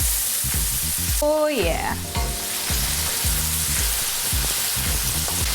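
Guanciale and finely diced onion fry loudly in a pan with a steady close sizzle, while a voice briefly speaks over it.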